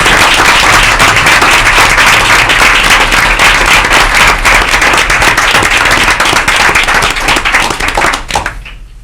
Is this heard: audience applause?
yes